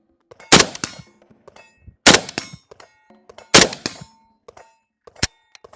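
Three sharp AK-47 rifle shots in 7.62x39 fired with iron sights, each followed by a bright metallic clang from a struck steel target, spaced about a second and a half apart, with a fourth lone ring near the end.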